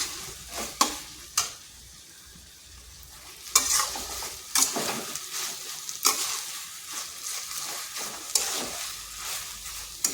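Drumstick (moringa) leaf bhorta stirred while frying in a pan: spatula scrapes and clacks in bursts over a soft background sizzle, close and fairly quiet with pauses between strokes, no voices.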